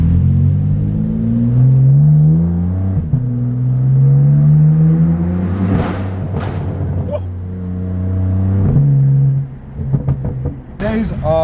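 A straight-piped BMW M4 F82 with a very loud exhaust drones and revs deeply while driving, rising and falling through gear changes on a sunny autumn road, with a sharp crackle near the end.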